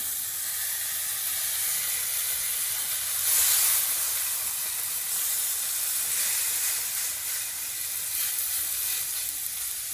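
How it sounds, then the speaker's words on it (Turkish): Beef tenderloin steaks sizzle on a very hot cast iron grill pan, a steady close hiss and crackle that swells briefly partway through, then settles into an even fry. "Şu an bonfilelerimi 90 derece çevireceğim. Olduğu yerde 90 derece çeviriyorum bonfilelerimi."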